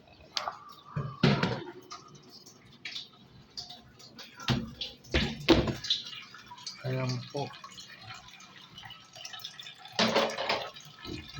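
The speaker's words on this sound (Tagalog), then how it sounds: "Malakas na po tulo dito guys." Water drips and splatters from a leaking roof near a terrace, irregular bursts of drips and splashes at close range, with a person talking softly in between.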